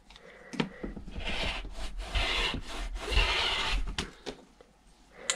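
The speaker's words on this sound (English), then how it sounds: "I'm going to go ahead and cut this at 30 inches." Scissors slicing through fleece fabric for a guinea pig cage liner, a close rasping rubbing in several long continuous cuts broken by short clicks of the blades, no talk.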